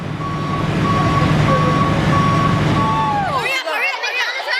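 A dump truck's reversing alarm beeps in an even, repeating rhythm over a dense rumble of engine and machinery at a busy post-flood rebuilding site on a beach boulevard. The din cuts off near the end, leaving brief chirping sounds.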